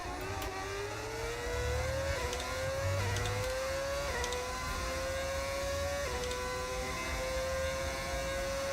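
Race car engine in the F1 25 video game, a steady high whine that climbs through gears with rising pitch sweeps and brief drops at each shift, running alone without talk.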